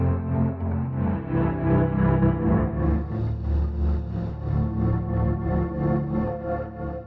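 A Lunacy Audio CUBE sample-based synth runs through saturation, wave-shaping and bit-crushing distortion, holding dense, gritty sustained chords that stay loud and steady for about seven seconds with no talking.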